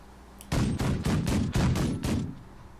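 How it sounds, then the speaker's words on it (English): Ship guns firing in The Last Leviathan video game sound as a rapid volley of about seven heavy booming blasts, spaced roughly a quarter second apart, loud and close, each with a rumbling tail. "I might even take control of one of the guns and try to hit him from here"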